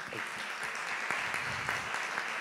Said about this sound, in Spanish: un aplauso de mi parte